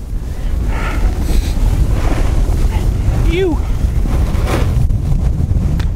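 Strong wind buffets the microphone on a ski slope at Mont Tremblant during a final run, a loud steady roar throughout with a person exhaling and speaking briefly over it.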